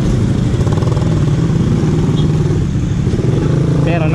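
A Suzuki Raider R150 Fi motorcycle engine runs loud and close with a steady, throbbing putter while the rider works the clutch in traffic, someone speaking over it.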